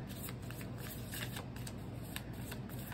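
A deck of playing cards is shuffled close by, a soft continuous riffling and flicking under a faint steady hiss.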